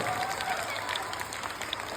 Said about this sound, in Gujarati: જોરદાર તાળીઓના ગણગણાટથી વધાવી લઈએ આપણે